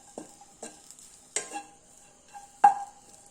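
Coriander seeds being dry-roasted with roasted gram in a pan, heard as a few sharp, separate scrapes and stirring clatters spaced apart, close by, with a faint sizzle between them.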